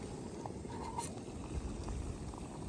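Water boiling on a camping stove, a faint, even bubbling rumble with soft gurgles, close and quiet, no voices.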